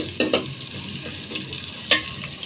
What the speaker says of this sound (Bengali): রসুন দিলাম, পেঁয়াজ দিলাম, কাঁচামরিচ দিচ্ছি শাকের জন্য।